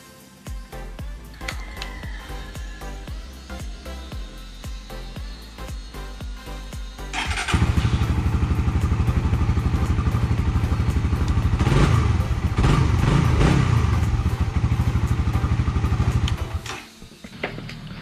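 A Suzuki Raider 150 fuel-injected motorcycle with a newly installed quick throttle idles close by, then revs up loudly and holds a high, rough roar for several seconds before dropping back.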